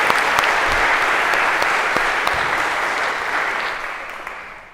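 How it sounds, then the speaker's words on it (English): A large lecture-hall audience at a computer science class breaks into loud, dense applause that runs steadily and then gradually fades toward the end, with no talking over it. "Big round of applause,"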